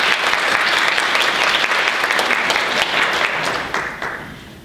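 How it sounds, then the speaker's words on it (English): An audience at a women's leadership power lunch applauds in a dense, sustained burst of clapping that fades out near the end. "Let's give them a round of applause"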